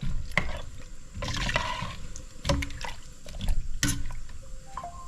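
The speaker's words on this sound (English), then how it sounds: "Give this a stir." A pot of split pea soup with fresh bay leaves is stirred up close, producing thick wet sloshing and scraping strokes in uneven bursts, with no voices.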